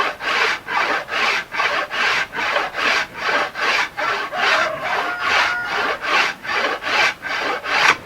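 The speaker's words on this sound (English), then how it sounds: "So probably what I'm going to do is take this down with this rasp." Hand rasp filing the rough edge of scrap wood shaped into a canoe paddle, in about a dozen steady back-and-forth rasping strokes, close and clear with no talk.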